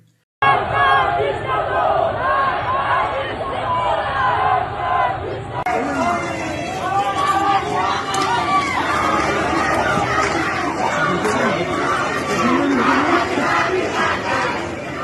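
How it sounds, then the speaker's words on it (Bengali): A large protest crowd in Iran chanting slogans against the supreme leader, a dense, loud roar of many voices in rhythmic unison that continues throughout and briefly surges in volume partway through. "ডেথ টু ডিকটেটর, অর্থাৎ ইরানের সুপ্রিম লিডারের বিরুদ্ধে স্লোগান দেওয়া হচ্ছে"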